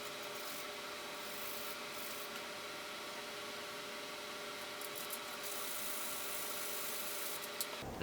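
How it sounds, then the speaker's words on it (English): Steady hand sanding with an 800 grit sandpaper pad on a guitar part, a faint, continuous rubbing texture under a constant background hum, with no talking. "This would go faster if I were using a grittier sandpaper."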